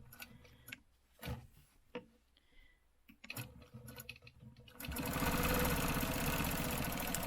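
A sewing machine stitching a stencil design makes scattered ticks and clicks at first, then settles into a continuous fast, even whir of stitching.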